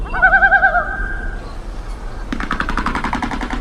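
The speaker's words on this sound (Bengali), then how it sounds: "এই যে কি সুন্দর ডাকছে না এই আর একটা পাখি" Wild birds calling one after another: a clear run of repeated, evenly spaced whistled notes, then a different bird breaking in with a rapid, pulsing rattle, both fairly close and without voices.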